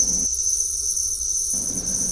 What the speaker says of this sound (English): And that's how you make a field of crickets.